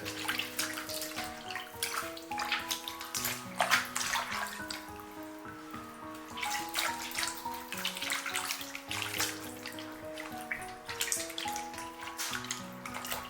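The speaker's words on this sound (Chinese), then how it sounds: "先把大葱放入清水中清洗干净" Fresh green onions are rinsed in a basin of clean water, producing continuous splashing and trickling with steady running-water noise at close range and no voices.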